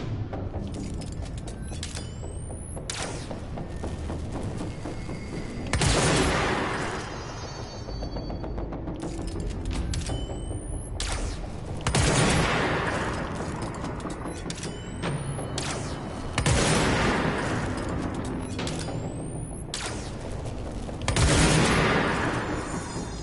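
Sniper gunfire in the video game Control: four loud, sharp shots spaced roughly five seconds apart, each with a short ringing tail, over a steady bed of game ambience and no talk.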